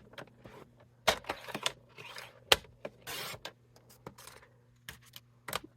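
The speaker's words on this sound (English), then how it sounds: "I'm going to cut the box down right at this" Scissors snipping through a paper box, with sharp irregular cutting clicks and scraping crunches at close range, no voices.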